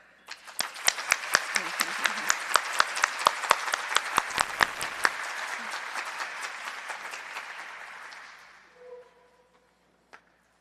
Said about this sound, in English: please join me with a round of applause to welcome wish recipient Joanne Martin